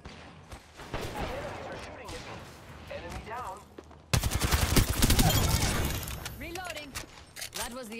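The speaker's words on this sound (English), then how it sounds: "Enemies are shooting at me." Rapid automatic gunfire from a first-person shooter (Apex Legends), loud bursts of shots dominating the middle and end with quieter shooting and game effects earlier, no talking.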